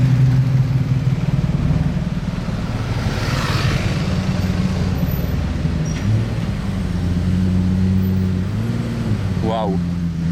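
A Pagani Utopia coupe supercar passes along a street in Monaco, its engine a steady mid-pitched drone that holds throughout and shifts near the end, with voices in the background.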